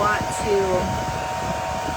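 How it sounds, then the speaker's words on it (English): A hair blow dryer runs continuously at close range, warming a makeup palette, giving a steady whooshing hum with no pauses. "I'm going to warm it up just by putting the blow dryer on it"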